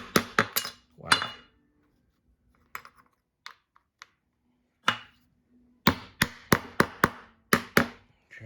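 Hammer whacking metal parts on a Harbor Freight manual tire changer during a DIY tire change, in sharp clanking bursts: a quick cluster, a few scattered single hits, then a rapid run of blows near the end.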